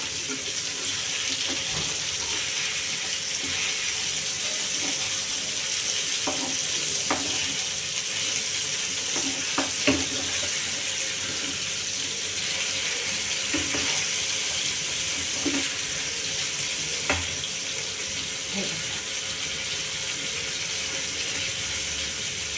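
Fresh bombil fish roasts over a low gas flame with a steady, even sizzle. Light scrapes and taps come at intervals as the fish is mixed in the pan.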